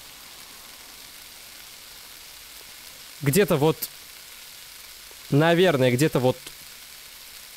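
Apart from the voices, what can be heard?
food sizzling while frying in Cooking Simulator video game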